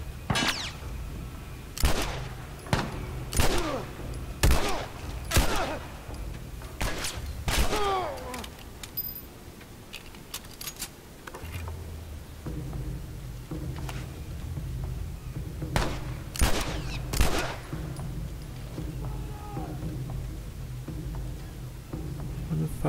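Gunshots from The Last of Us Remastered on PS4: a dozen or so sharp, loud cracks, some in quick pairs, spread unevenly across the stretch with a low rumbling game backdrop between them.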